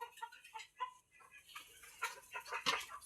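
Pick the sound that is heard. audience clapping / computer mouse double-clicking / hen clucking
hen clucking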